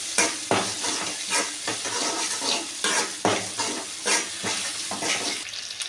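Dried red chillies sauté in a pan, with a steady loud sizzle and repeated rhythmic scraping and stirring strokes throughout, close up and with no voices.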